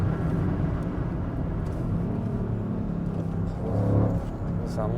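A Mercedes CLS 55 AMG with a roughly 500 hp engine holds a deep, loud rumble from inside the car as it accelerates, swelling near the end before easing off.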